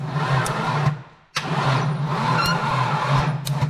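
A Holden VT Commodore being started by hand after sitting, fuel-soaked: a brief cranking burst cuts out, then the engine catches and runs with a loud, steady close-up rumble and rough idle.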